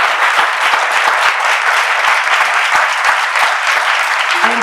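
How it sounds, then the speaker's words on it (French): An audience applauds a pianist in a steady, dense burst of clapping that fills the whole stretch at a loud, even level, with no voices standing out. "Allez, venez, on va applaudir le pianiste."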